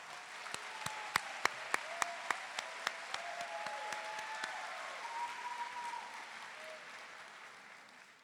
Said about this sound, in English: Let's give a round of applause to all parents,